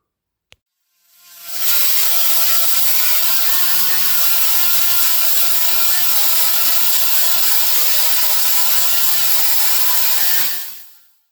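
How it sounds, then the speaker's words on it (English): An angle grinder grinds down welds on a chopped car roof, starting with a sharp click before spinning up into a loud, steady, high-pitched grinding whine that holds for about nine seconds and then fades out. "I'm going to sit down now and I'm going to grind all that down."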